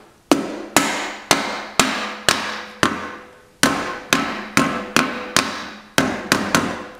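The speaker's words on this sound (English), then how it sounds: "With a rubber mallet" A rubber mallet lightly tapping an engine case down onto its gasket during a Doodlebug conversion, about a dozen sharp, evenly spaced knocks, each with a short ringing decay, loud and close with no talk.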